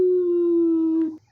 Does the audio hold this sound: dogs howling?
yes